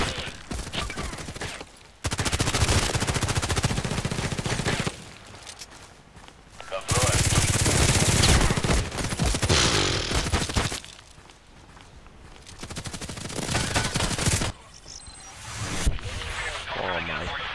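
Glock 18 machine pistol fire in the online shooter Contract Wars, loud rapid bursts in several sustained stretches separated by brief pauses, with a voice talking over the action.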